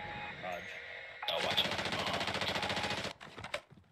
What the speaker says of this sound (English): we got dudes shooting at us from the left over there